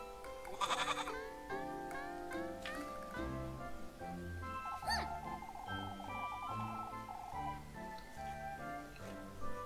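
Goat bleats from the Little Goody Two Shoes video game sound in a few wavering calls over a soft melodic game music backdrop, with no talking.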